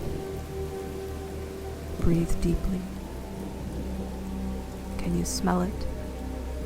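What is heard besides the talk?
steady rain falling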